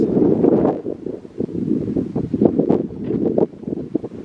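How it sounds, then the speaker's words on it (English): Steady, chilly outdoor wind buffets the microphone in low rumbling gusts that swell and ease throughout, with no voices present. "It's windy and it's pretty chilly right now."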